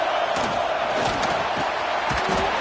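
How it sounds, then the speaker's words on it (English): A full football stadium crowd roars at a Wildcats game, a dense, loud and continuous wall of voices that swells in waves across the whole stretch. "This crowd, full throat, spreading the eardrums and letting him know it's going to be a long day."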